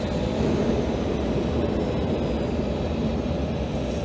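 Airplane engines in flight give a steady, loud low roar and rumble that holds evenly throughout, with no voices.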